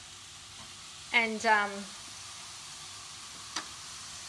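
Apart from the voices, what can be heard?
cauliflower rice frying in a frying pan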